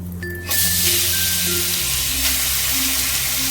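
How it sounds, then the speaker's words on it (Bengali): Small cut chicken pieces drop into hot oil in a pan, setting off a sudden bright sizzle that then holds steady and loud over a low background hum. "চিকেনগুলোকে ফ্রাই করার জন্য তাকে এবার চিকেনগুলোকে দিয়ে দিচ্ছি"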